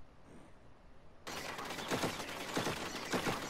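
Players shoot at one another in Plants vs Zombies Garden Warfare 2, a sudden burst of rapid gunfire that starts after a quiet moment and keeps going with repeated sharp shots, fairly loud, with no talking.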